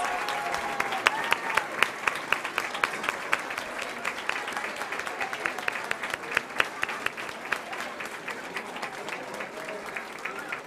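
A school audience at an anniversary inauguration applauds its teachers, a long, steady spread of many hands clapping at moderate distance, fairly quiet overall with scattered sharper claps.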